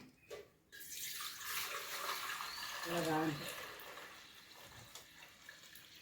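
After a brief knock, water is poured off settled arrowroot starch in a steady hissing splash for several seconds, tapering off toward the end.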